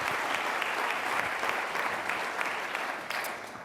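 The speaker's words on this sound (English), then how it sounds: "That deserves an applause." A keynote audience breaks into sustained applause, dense even clapping from a large hall that holds steady for several seconds before easing slightly at the end, with no voices over it.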